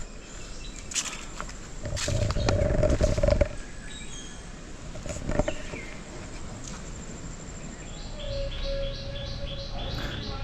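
Birds chirp and call on and off over a steady outdoor hiss at a village house, with a few louder sharp calls and a repeating tweet near the end.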